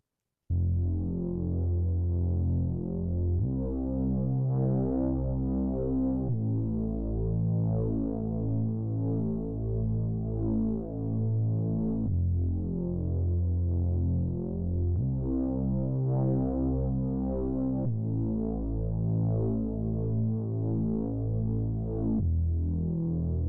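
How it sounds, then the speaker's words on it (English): A synth bass line with a buzzy, mid-high tone plays steadily, its notes changing every few seconds in a looping pattern, with no other instruments or voices. "a bass that kind of felt like a more, I guess, higher pitched synth bass"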